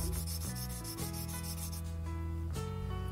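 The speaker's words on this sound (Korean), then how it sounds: "저 검정 부분은 지금 고온 사포로 연마 중입니다" Fine sandpaper rubs steadily against a handmade Pepero-style hairpin, a continuous close scratching hiss lasting a few seconds with no talk.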